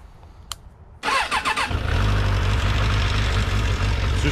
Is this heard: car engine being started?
yes